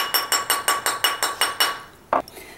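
Steady hammer blows on a flat stamped metal ring fitted over a steel ring mandrel: eight even, bright metallic taps at a brisk rhythm, close and loud, then a pause and one final clink.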